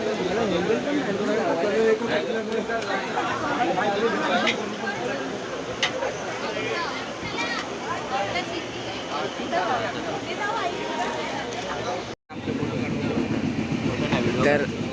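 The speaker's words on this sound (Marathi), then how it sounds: "फायनली ट्रेनमध्ये आम्ही चढलो आहोत" People talk inside a moving train over a constant low rumble and whir of the carriage, with a brief dropout near the end.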